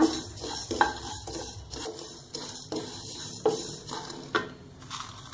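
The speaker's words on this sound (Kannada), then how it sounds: "ಮೆಣಸಿನ್ಕಾಯಿ ಚಿಲ್ಲಿ ಎಲ್ಲ ನಾನು ಲೋ ಫ್ಲೇಮಲ್ಲೇ ಫ್ರೈ ಮಾಡ್ಕೊಳ್ತಾ ಇದ್ದೀನಿ" Coriander seeds, mustard seeds and chillies are dry-roasted in a pan on low flame, with repeated scraping and stirring strokes of a spoon against the pan and faint crackling throughout, close and steady without talk.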